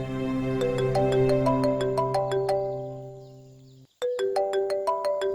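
Phone ringtone playing a bright melodic chime pattern that repeats, pausing for a moment before the ringing resumes, with no talking.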